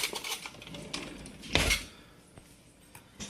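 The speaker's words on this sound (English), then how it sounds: "with a butter knife, I'm going to swirl the contents together" A butter knife clinks against a baking pan while swirling cinnamon crumbles into cake batter, several soft taps and scrapes close by with one sharper clank in the middle.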